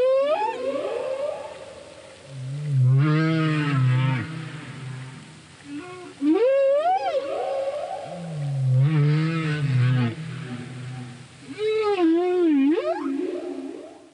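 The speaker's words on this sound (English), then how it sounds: "And these animal sounds" Whale-like animal calls with rising and falling tonal sweeps, three long moaning phrases over a low rumbling bed, processed by AI speech-enhancement noise reduction that warps them into voice-like sounds.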